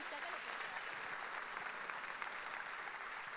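A church congregation claps during a sermon, a steady wash of applause that stays even throughout, moderately distant and fairly quiet with a faint crowd murmur.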